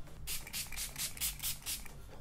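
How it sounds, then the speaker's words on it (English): Setting spray is spritzed from an aerosol can in a series of about seven short hissing bursts, fairly faint and close, with no talking. "I just want to make sure the spritz is alright"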